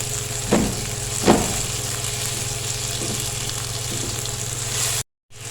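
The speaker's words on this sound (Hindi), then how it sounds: "2 से 3 मिनट इसको भूनेंगे।" Three large, mild green chillies frying in a pan, a close continuous sizzle with a couple of scraping stir strokes, ending in a brief cut to silence.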